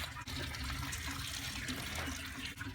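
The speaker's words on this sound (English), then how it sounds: "So now I'm just going to drain out this water." Soaking water pours off a batch of soaked bush bean seeds, a continuous close splashing and trickling stream that runs steadily throughout.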